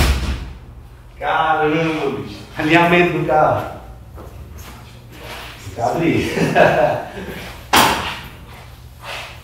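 The door of a 1970 Volkswagen TL closes with a single sharp, solid thud near the end, following stretches of someone speaking close by.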